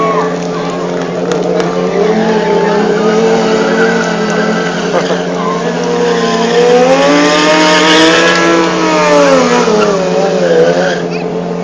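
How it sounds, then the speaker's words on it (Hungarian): A motorcycle engine revs hard at a motorcycle and rally demonstration show in Ercsi, the loud, rising and falling whine sustained throughout with crowd and voices mixed in. "szeretjük azért ennek a motornak a hangját"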